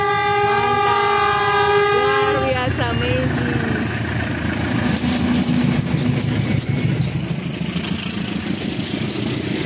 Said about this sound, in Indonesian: Siap merekam kereta Serayu.